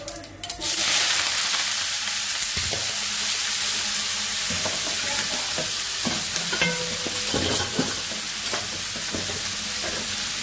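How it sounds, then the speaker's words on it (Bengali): Cauliflower bhaji dropped into hot oil with cumin tempering, a loud burst of sizzling settling into steady frying with repeated spatula scrapes and knocks, close, no voices. "জিরা ফোড়ন দিয়ে দিলাম, ভাজিটা দিয়ে দিচ্ছি তেলে।"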